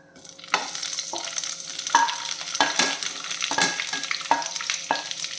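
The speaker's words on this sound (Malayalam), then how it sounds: "ഈ ക്യാപ്സിക്കവും ഈ സവാളയും അതിലിട്ട് കൊടുക്കാം" Capsicum and onion frying in hot oil, a continuous close sizzle broken by regular scraping stirs of a spatula roughly every half second, with no talk.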